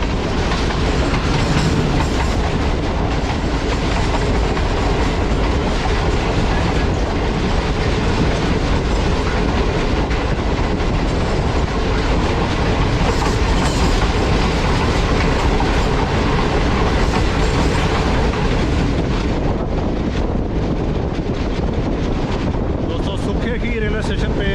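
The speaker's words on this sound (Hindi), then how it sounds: "रेलवे स्टेशन पे सिस्टर ट्रेन 35 अब सर सैयद एक्सप्रेस के साथ सिंगल लाइन क्रॉसिंग हुई है।" Sir Syed Express passenger train running on rails in Pakistan, heard as a loud, continuous rumble with rhythmic clickety-clack of wheels and wind buffeting the microphone across the whole stretch.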